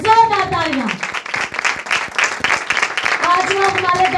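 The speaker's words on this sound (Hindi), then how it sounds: "पास्टर जवेद साहब के लिए जोरदार तालियां" A church congregation claps for a pastor, a rhythmic run of applause under a loud, sustained voice that carries over the clapping throughout.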